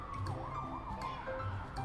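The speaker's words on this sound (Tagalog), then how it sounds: "Oo nga, tunog ng ambulansya." An ambulance siren wails with a rising and falling tone, fairly faint and distant, alone without speech.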